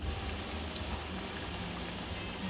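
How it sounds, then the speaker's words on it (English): Sweet potato fries sizzling in hot frying oil in a wide pan over medium-high heat, a steady, dense crackle and bubbling that runs unbroken throughout, fairly close with no voices. "Heat the frying oil in a wide pan, then add the sweet potatoes."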